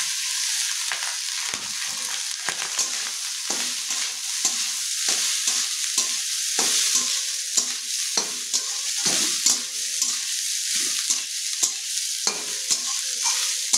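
Hot cooked rice tossed and stirred in a frying pan for paneer fried rice, with brisk scraping spatula strokes in a steady rhythm over a constant close sizzle and no talking.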